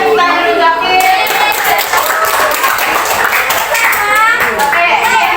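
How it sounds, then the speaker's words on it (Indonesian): Students in a classroom clap their hands together, a steady busy patter of many hands mixed with children's voices and chatter throughout. "kasih tepuk tangan dulu"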